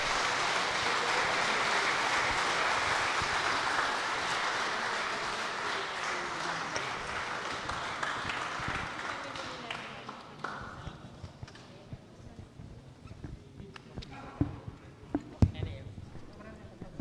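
Broad, steady applause from a crowd at a church conference closing fills the first half, then thins out into scattered claps and a few sharp knocks.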